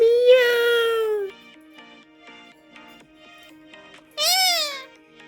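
A parrot imitates a cat's meow, giving a long drawn-out meow, a stretch of quieter faint sounds, then a second shorter meow-like call, all close and clear.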